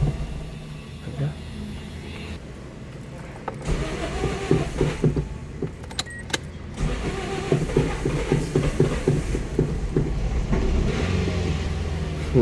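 A Toyota Vios with a check-engine problem and a cold engine cranks and catches, then runs with a rough, pulsing idle close by, while someone talks over it.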